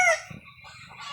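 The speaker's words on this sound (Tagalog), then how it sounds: "Yang pagtitilaok ng manok, ano ba ang ibig sabihin nun?" A rooster gives a short, close crow, a bright drawn-out call that breaks off quickly, followed by a few soft clucks in an otherwise quiet coop.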